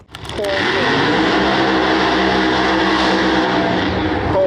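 Drag racing cars launching at a No Prep Kings Outlaw 32 event in Virginia: after a brief quiet start, a sudden loud, sustained engine roar fills the rest of the moment.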